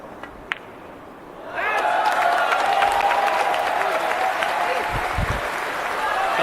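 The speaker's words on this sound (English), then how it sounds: "A louder cheer for a hook you've never heard." A quiet hall erupts into a loud cheer and sustained applause from the crowd at the Reyes Cup pool match between Team Asia and Team Europe, clapping and shouts continuing steadily after a hushed start with a sharp click.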